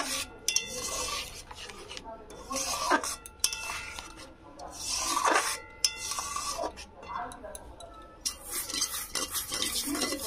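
Semolina stirred in a kadai for modak dough, a steady scraping and rubbing of spoon against metal pan repeated in uneven strokes, close and fairly loud with no talk.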